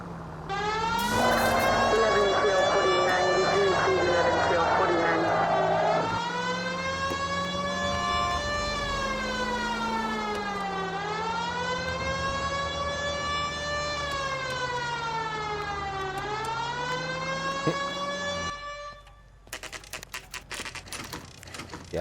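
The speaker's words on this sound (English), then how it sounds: "I'm already enjoying the siren" A wailing police car siren from the video game L.A. Noire, set in 1940s Los Angeles, rises and falls in long sweeping cycles, loud and close, before cutting off abruptly near the end, leaving background noise.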